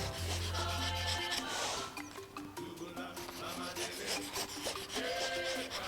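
Bushcraft knife with a Scandi grind pushed flat along a sharpening stone outdoors, close rhythmic rasping strokes repeating steadily with no talk.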